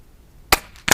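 Two sharp, loud cracks sound close by less than half a second apart, each a short broadband burst, from a Umarex Notos PCP air rifle regulated at 1550 psi.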